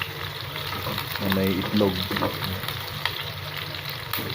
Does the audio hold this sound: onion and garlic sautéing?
yes